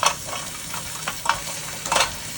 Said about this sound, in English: The grill is starting to sizzle and the sides are starting to show that they've been cooking.